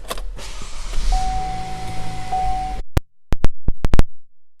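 Power windows of a 2016 Chevrolet Malibu Limited whir steadily for nearly three seconds with a faint motor whine, then a series of sharp clicks and thumps follows, close and fairly loud inside the car.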